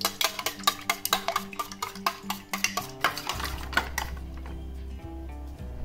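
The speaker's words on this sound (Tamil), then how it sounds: "முட்டையை அப்படியே நல்லா பீட் பண்ணிக்கணும்." Eggs are beaten in a bowl for egg chapathi, a quick rhythmic series of sharp clinking strokes from a utensil against the bowl, close and clear, then giving way to a low steady hum with a few scattered clinks.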